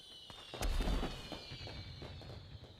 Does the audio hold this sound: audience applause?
no